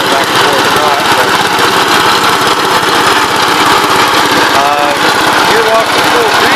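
A 1970 Gravely C8 walk-behind tractor engine runs at a steady idle close by, loud and continuous with a rapid rough chug. A voice talks over it now and then.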